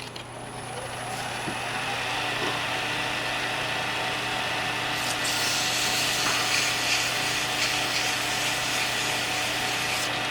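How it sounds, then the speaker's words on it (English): An alder cone pen with a CA finish is wet sanded with 1000 grit paper on a spinning lathe, giving a steady whirring hum overlaid with a continuous soft rubbing hiss. "we're going to start our wet sanding"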